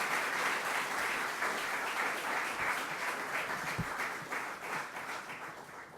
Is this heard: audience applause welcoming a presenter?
yes